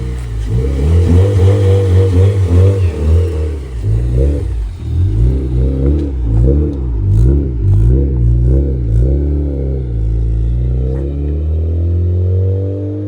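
A 9th-generation Honda Civic Si with a big brake kit drives down a residential street, its engine note rising and falling in repeated revving swells, loud and close throughout, with faint clatter at the end.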